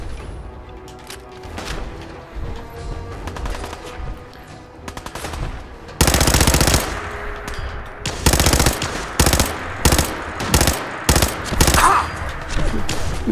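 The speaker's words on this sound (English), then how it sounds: "Ooh, who's shooting me?" Rapid automatic gunfire and single shots in Fallout 4 survival mode, a steady stream of game combat noise that turns into loud, close bursts of repeated firing in the second half.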